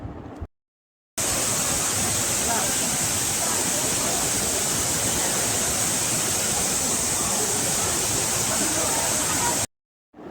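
The Agasthiyar waterfall roars in a constant, dense rush of falling water, loud and unbroken, cutting off abruptly near the start and end.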